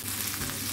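Onions frying in a pan for vegetable biryani, a dense, even sizzle heard up close for a brief moment without any talk.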